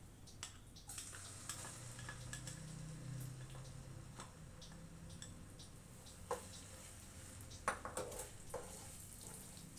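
Ground masala paste tipped into hot oil and ghee with a bay leaf for a peas and paneer dish: a faint, steady frying hiss with scattered light ticks and scrapes of a spoon against the pan, no voices.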